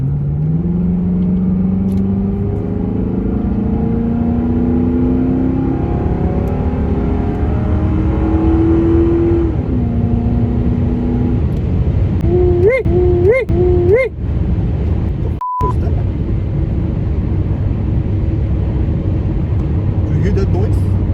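A 2004 Ford Panther Platform car engine accelerates with the pedal floored, a loud low rumble rising steadily in pitch through the gears, with voices talking over the cabin noise.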